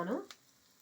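Tomatoes drop into a pan of sautéing mixed vegetables being cooked for a sprout, nut and pulse upma, giving a brief soft sizzle and stir that quickly fades to a faint hiss.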